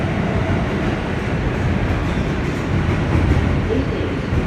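Inside a New York City subway train on a slow weekend run, a loud, steady rumble and rattle of the car continues without a break, with a little muffled voice beneath it.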